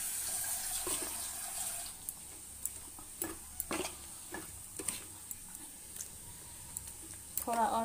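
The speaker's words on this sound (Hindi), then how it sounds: "थोड़ा और पानी इसमें डालेंगे।" Water runs from a tap in a thin steady stream into papad batter, with scattered clinks and small knocks of utensils around it, fairly quiet.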